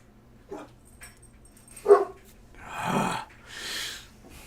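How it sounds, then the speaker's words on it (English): Dogs at home: two short, sharp barks close by, then longer whining and huffing sounds at moderate volume in a quiet room. "What are the dogs barking at today?"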